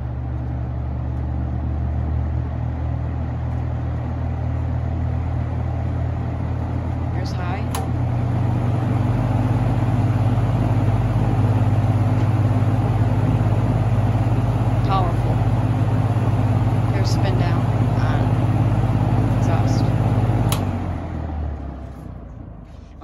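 A vintage 1969 Penncrest 200 reversible fan runs on medium in exhaust mode, giving a steady, close motor hum and whooshing airflow with a low drone. Near the end it cuts off and quickly winds down.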